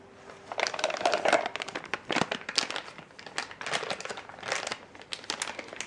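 A pastry bag with a fluted tube crinkles and rustles as deviled egg filling is scooped into it, giving close, irregular bursts of plastic crumpling and soft scraping with no talk.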